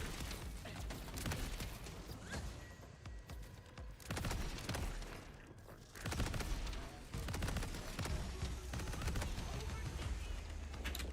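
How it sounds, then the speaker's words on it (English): Sustained automatic gunfire from a new large-magazine gun in a video game rattles in long bursts with brief gaps, loud and dense, layered over game effects and ambient noise. "Right, trying out the new gun."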